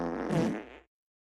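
A short, loud, buzzy fart sound effect, a single blast just under a second long that cuts off abruptly into silence.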